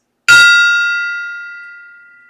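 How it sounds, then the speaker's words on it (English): A single bright metallic strike of a small gong rings out loud and alone, its clear tone decaying slowly over two seconds. "And gong hits coming."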